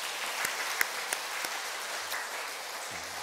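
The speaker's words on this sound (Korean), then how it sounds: "우리 박수로 환영하겠습니다." A church congregation at Sunday service applauds in welcome, a soft, steady patter of many hands heard from a distance with a few sharper claps standing out.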